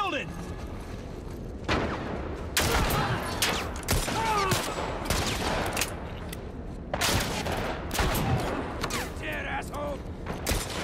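Rapid volleys of gunfire in The Last of Us Part I during a fight with bandits, loud, close shots in dense bursts and clusters with brief pauses, mixed with scattered voices and mechanical clatter.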